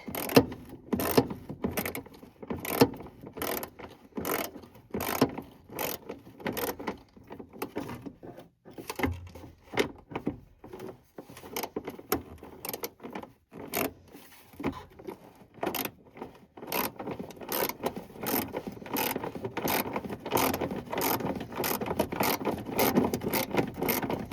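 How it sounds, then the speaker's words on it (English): Rapid, repeated clicking and scraping of a ratchet working a loose bolt on a 1984 first-generation Chevy S10 near its wiper fluid tank, the close, metallic strokes coming in quick bursts throughout with no talk. "I had the ratchet on it. There we go. Getting some good movement out of it."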